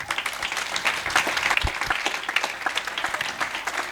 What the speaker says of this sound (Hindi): इस गवाही के लिए जोरदार तालियां बजाएं